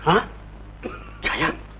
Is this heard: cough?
yes